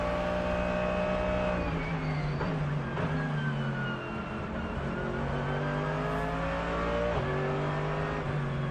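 Big V8 race car engines of about 5.4 litres warm up in the pits at the Nürburgring 24 Hours, a loud, continuous rumbling drone with several rising and falling revs from more than one car.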